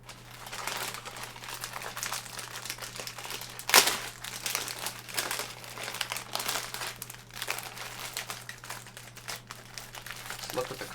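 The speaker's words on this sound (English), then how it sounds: "I'm going to open it this way using one of the tear tabs" Plastic MRE meal kit packaging crinkles and rips open at a tear tab, a quiet stretch of crackling rustle with one sharp louder tear partway through.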